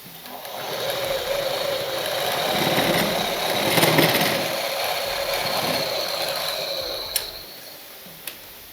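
A sewing machine runs steadily while stitching a double stitch along a blouse lining, a continuous close whirring hum with a couple of sharp clicks near the end.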